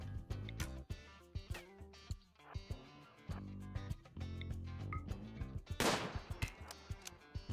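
Gunshots ring out in a shooter video game on a water-covered map with shallow water everywhere, coming as repeated sharp cracks and short bursts over a busy backdrop of game sound, with one loud blast near the end.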